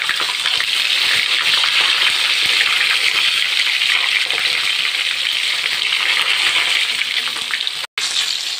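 Eggplant slices fry in hot oil, a loud, steady, dense sizzle that runs unbroken for several seconds before cutting out briefly near the end.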